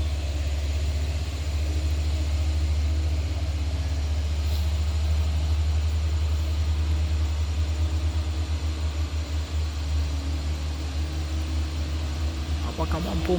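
A steady, loud low rumble comes from an Isuzu Elf truck engine running throughout as it works up a dusty slope. The drone stays constant and close, with a faint rattle toward the end.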